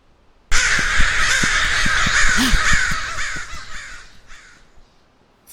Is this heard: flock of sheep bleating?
no